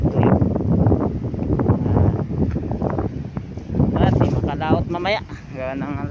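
Strong seaside wind buffets the microphone in a continuous roar while someone talks over it throughout.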